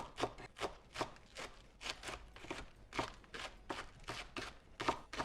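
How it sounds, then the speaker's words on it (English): Washed spring onion, green and white parts, is chopped finely with a knife in a quick, steady rhythm of soft crunchy cuts, about fifteen strokes, faint and close, with no talk. "So I'm just going to chop it as finely as I can."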